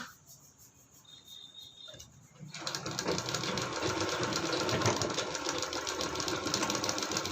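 A sewing machine starts stitching fabric after a quiet moment and then runs steadily with a fast, even mechanical whir and clatter, close and continuous to the end.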